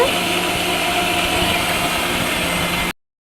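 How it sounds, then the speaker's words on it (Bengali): An electric blender grinds onion, chili and peanuts with a steady, loud motor whir that runs unbroken for nearly three seconds, then cuts off abruptly. "এইখানে হচ্ছে আপু পেঁয়াজ, মরিচ আর বাদাম ব্লেন্ড করছে।"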